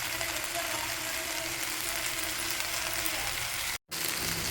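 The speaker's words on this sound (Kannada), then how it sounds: "ಚೆನ್ನಾಗಿ ಎಲ್ಲವೂ ಫ್ರೈ ಮಾಡ್ಕೊಳ್ಳಿ." Okra palya frying in a pan, a steady broadband sizzle holding across the whole stretch with a brief dropout near the end, no voices.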